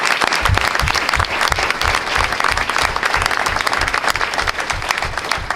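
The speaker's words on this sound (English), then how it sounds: "So let's give Matt Rickman a round of applause." An audience gives dense, loud, sustained applause for state champion Matt Rickman at a meeting, with the clapping holding steady for the whole stretch.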